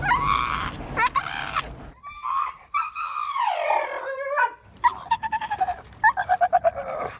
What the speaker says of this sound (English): A sort of shriek that would earn him the name Mo the Screaming Staffy